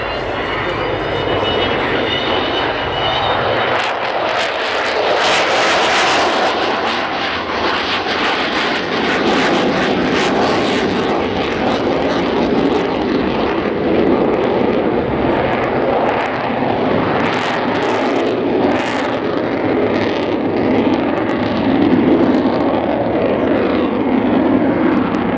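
A display aircraft makes a quiet pass at the Cosford air show, its engine drone swelling and fading steadily over continuous outdoor crowd ambience.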